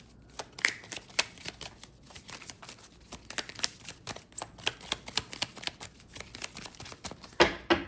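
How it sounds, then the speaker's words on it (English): Oracle cards being shuffled fast by hand, a quick run of crisp flutters and riffles close to the ear, ending in a louder burst. "Shuffle them really fast."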